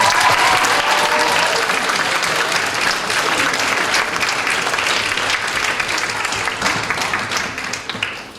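Audience applause at the opening ceremony of a fan convention, dense and loud with steady clapping that holds for most of the stretch before tapering at the end.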